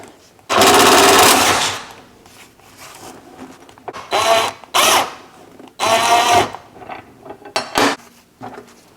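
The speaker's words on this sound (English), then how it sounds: "a 6mm socket on my impact drill just to loosen them up here" A long rattling burst from an impact wrench with a 6mm socket loosening bolts on a BMW F90 M5, then several shorter hammering bursts with brief gaps and light metallic clinks, close by.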